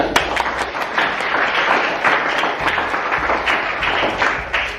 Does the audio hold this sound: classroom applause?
yes